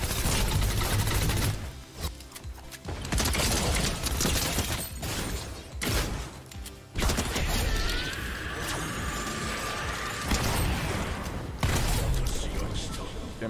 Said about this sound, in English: I was just shooting to reload my SMG to be fully reloaded